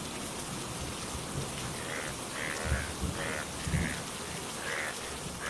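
Steady rain falls throughout a cartoon scene, a dense, even patter of drops on surfaces with no voices.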